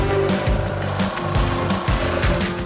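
A laminate floor plank is recut with a power saw, a buzzing motor with rhythmic cutting strokes and knocks, close and steady with no talk.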